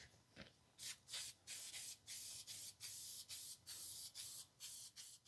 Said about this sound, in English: Spray shellac.